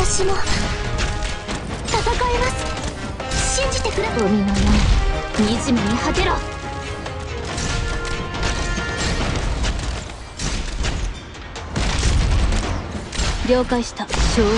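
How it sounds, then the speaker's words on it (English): Bombs dropping in the tower-defense game Arknights, heard as a dense stream of repeated crashes, thuds and impact bursts over busy game music, with a voice talking intermittently. "Drop some bombs."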